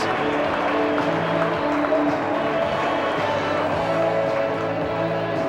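Crowd at the 1998 Port vs Sturt Grand Final football match, a steady roar of distant cheering and applause filling the stadium, continuous and even throughout.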